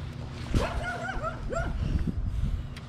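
A dog lets out a few short barks and yips with whimpering rises, close by beside a lake, over a steady low hum of background noise.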